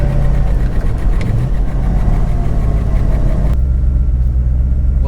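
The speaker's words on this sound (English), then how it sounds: "Well, it seems that the alternator is alternatoring and the car runs pretty well." A De Tomaso Pantera's engine runs steadily, a loud, close, deep rumble that holds throughout with a sudden drop in high-end noise partway through, no voices present.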